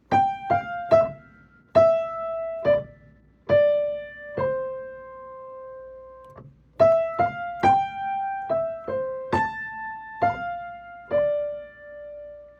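Right-hand piano melody from the beginning, a chain of bright single notes with a brief pause midway before the phrase resumes, each note sustained and decaying cleanly, unaccompanied and without speech.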